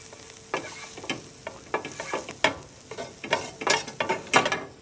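Butter sizzling in a hot pan for chicken piccata, a soft, crackling fry broken up by uneven scraping and stirring strokes that grow busier toward the end. No one is talking.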